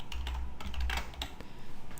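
Rapid keystrokes clatter on a computer keyboard while someone enters JavaScript code, an uneven run of close, crisp clicks and taps with no talking.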